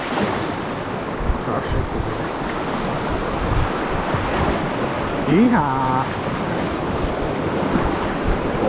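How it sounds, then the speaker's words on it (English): Rushing river rapids and breaking waves around a packraft on a rainforest river, a steady loud roar of churning water with wind buffeting the microphone, while someone talks and lets out a shout near the end. "There's big waves up ahead."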